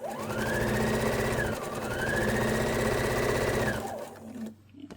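A sewing machine runs steadily, stitching a quilt block seam in one continuous burst with a brief slowdown in the middle, close and loud, then stops near the end.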